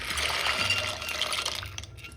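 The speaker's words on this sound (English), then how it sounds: "I have boiled the water, so I'm here using penne pasta" Penne pasta tipped into a pot of boiling water on a home kitchen stove: a close, bubbling splash of liquid that runs steadily and thins out toward the end, with no voices.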